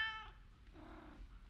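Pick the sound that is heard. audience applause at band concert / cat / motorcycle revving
cat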